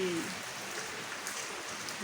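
Night rain pours over a village house with a tin roof, a dense, even hiss of drops that holds steady throughout, with a short tonal sound at the very start.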